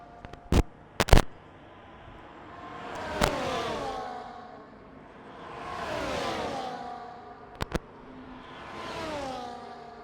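Race cars passing wheel to wheel in a circuit race, three distinct engine pass-bys rising and falling in pitch as they sweep past, punctuated by several sharp clicks.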